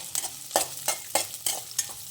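Cut onions with dried red chillies sauté over a high flame in a pan for a village-style chicken curry, with a steady sizzle broken by repeated scraping stir strokes at roughly even intervals.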